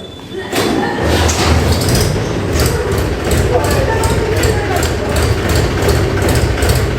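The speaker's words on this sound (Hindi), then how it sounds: "तो देखिए ट्रैक्टर को लेके जा रहे हैं" A loud, low tractor engine pulling a cart toward a field chugs steadily after a brief quiet start, with rhythmic mechanical knocking running throughout, close by.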